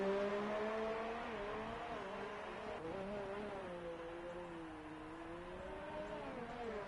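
F1 race car on a push lap in a PS4 esports race at Bahrain, a steady high engine whine with rising and falling pitch through gear changes and corners, continuous and close.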